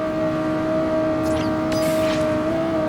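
A Lexus LFA in the racing game Forza Horizon holds a steady, high-pitched engine drone, a constant tonal whine with faint shifts and brief tire or wind sweeps near the middle.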